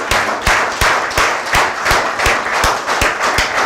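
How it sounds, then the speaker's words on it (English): Applause from an audience at a Grenada NDC political candidates' launch event, sustained clapping with a steady stream of sharp hand claps over a dense crowd wash, loud and close throughout. "let's give them a round of applause"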